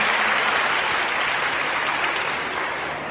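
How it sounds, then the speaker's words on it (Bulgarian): Loud, dense applause from a television singing competition audience, a continuous wash of many hands clapping at once that holds steady and eases only slightly toward the end, with no voices above it. "Аплодисменти за Русина и за прима балерината на балет Нова Константина Ханджиева!"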